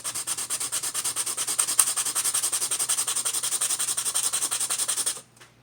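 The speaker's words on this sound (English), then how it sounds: "I want this end, one end to be flat to match that. So I'm going to sand it." Rhythmic back-and-forth sanding of the wooden block for a Native American style flute, with steady, evenly paced strokes close up and no talking, stopping abruptly near the end.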